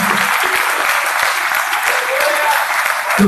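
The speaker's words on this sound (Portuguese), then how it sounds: "Se você acredita nisso, querido, aplauda ao Senhor." Loud, sustained clapping from a church congregation at an evening service, a thick, steady wash of hands applauding the Lord without a break.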